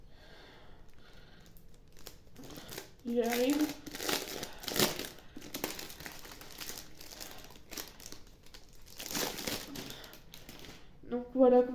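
Crinkling and tearing of plastic wrapping as a sturdy notebook is unwrapped, in bursts of crackly rustling up close, with a few brief spoken words between them.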